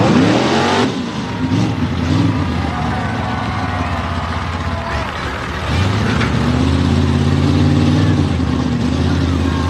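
A mega truck engine roars loudly at a truck pull event, revving hard with a brief dip before surging again, constant and close with crowd ambience underneath.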